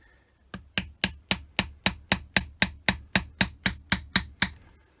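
Sixteen evenly spaced sharp metallic taps, loud and close, setting a roll pin into the throttle shaft of a Weber DCOE 40 carburettor, each strike ringing briefly before the next, with no talk.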